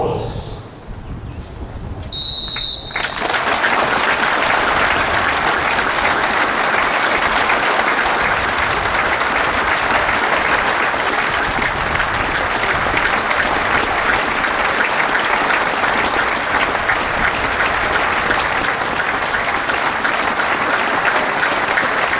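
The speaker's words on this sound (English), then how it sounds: "There will be a minute's applause before kickoff to mark the passing of former Cards manager Brian Caterer and Woking's life president Phil Ledger" A football crowd at a Woking against Dover Athletic league match gives a minute's applause before kickoff, steady loud clapping that swells after a quieter start and continues unbroken throughout.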